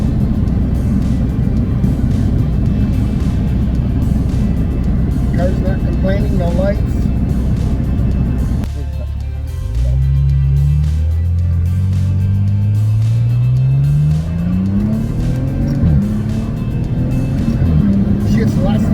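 A Maserati Ghibli SQ4 driving on the road, its engine droning low then rising in pitch through several gear changes after a brief dip, steady road noise beneath someone talking over it.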